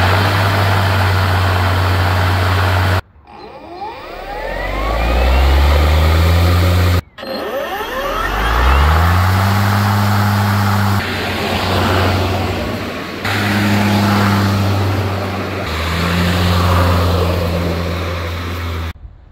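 Ego, Ryobi and Greenworks battery lawn mowers start one after another, each motor spinning up with a rising whine and then running together at a steady hum, loud and nearby.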